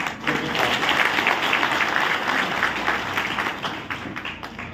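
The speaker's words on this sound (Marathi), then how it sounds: "जोरदार टाळ्या एक वेळा आपण वाजवूया" Audience applause at a political speech in a Maharashtra town, a dense, loud wall of clapping from a crowd that holds steady throughout and eases slightly near the end.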